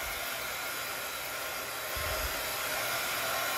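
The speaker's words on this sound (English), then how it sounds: "with the heat gun, let's just give it a quick dry" A heat gun blowing steadily while drying a craft project, a constant loud whooshing hiss with a brief low thump partway through, no talking.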